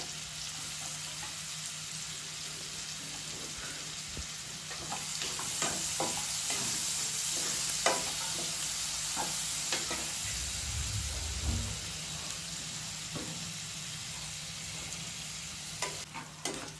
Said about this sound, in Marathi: त्याच्यामध्ये मी घालणार आहे ना कांदा पूर्ण आपल्याला तळायचा एकदम गुलाबी होईपर्यंत